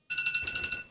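Ringing phone in the Black Mesa video game, a bright electronic trill pulsing in rapid repeated bursts, clear and fairly close, with faint low game ambience underneath.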